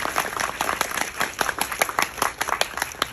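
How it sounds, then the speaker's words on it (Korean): Audience at a Korean film talk event for the movie Hunt clapping in a short burst, sharp individual claps layered into quick applause close by, with faint voices underneath. "박수 부탁드립니다."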